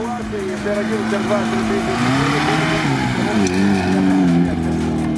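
Off-road Niva and two-engine Gelandewagen SUVs at the Monster-Trophy 2021 trial climb a hill sideways, engines droning and revving loudly with rising and falling pitch, while someone talks over them.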